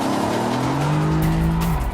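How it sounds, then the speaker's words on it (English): A Mercedes-AMG GT S sports car engine revs hard and loud, pitch climbing steadily through a gear before a brief drop, with tire noise underneath. "It really does sound like a pakka AMG."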